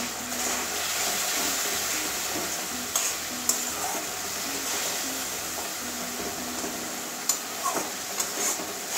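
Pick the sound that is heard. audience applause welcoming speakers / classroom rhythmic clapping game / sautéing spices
sautéing spices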